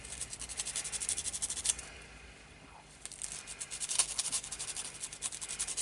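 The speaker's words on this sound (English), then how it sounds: "First you need to rough up your tube with a bit of sandpaper, get a better grip." Sandpaper scuffing the metal tube of a fountain pen at a woodturning bench: close, dry rubbing strokes in two busy bursts separated by a short quieter pause.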